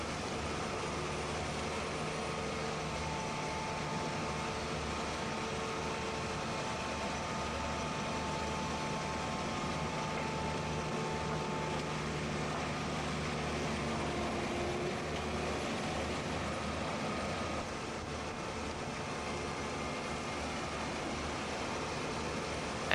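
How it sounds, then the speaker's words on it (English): A tractor engine in the Farming Simulator 15 video game drones steadily as it climbs a steep hill, producing a continuous, even rumble with broad noisy texture and no breaks for the whole stretch. "this tractor obviously really likes climbing this hill here"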